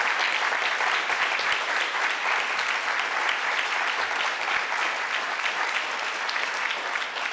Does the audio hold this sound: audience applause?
yes